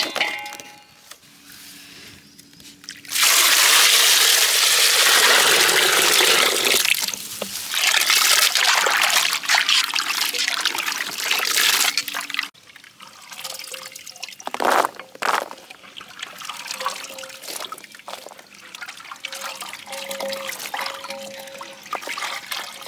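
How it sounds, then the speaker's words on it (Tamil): Jamun fruits rinsed in water in a village kitchen, with steady pouring and splashing that runs loud for several seconds, then breaks into intermittent trickles, drips and sloshing, close by. "நம்ம வந்து இப்போ நாவப்பழத்தெல்லாம் அலசி எடுத்துக்கணும்."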